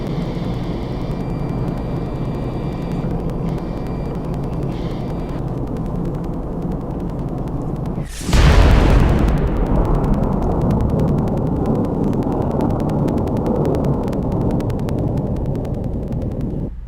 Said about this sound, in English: Take a look at this clip of how much destruction one explosion can make.